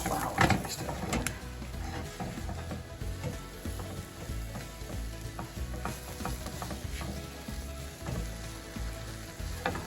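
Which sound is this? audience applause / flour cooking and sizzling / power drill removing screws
flour cooking and sizzling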